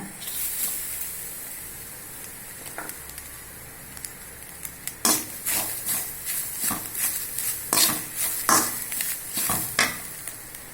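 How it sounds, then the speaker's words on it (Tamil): Grated coconut roasts in a pan and is stirred, first a low steady hiss, then a run of sharp scraping strokes against the pan that grow louder and repeat quickly toward the end. "தேங்காய் பூவை இப்போ நம்ம நல்லா வறுத்துக்கலாங்க"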